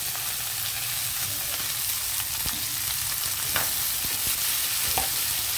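Cauliflower pieces fry in hot oil with coriander and curry leaves in a pan, a steady continuous sizzle with a few sharp scraping stirs, close and fairly loud, no talking.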